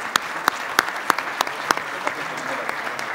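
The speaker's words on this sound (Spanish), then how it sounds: "Un aplauso, por favor." Sparse applause at a formal Mexican Senate signing ceremony for a national plastics agreement, a few sharp distinct claps standing out over a soft room background.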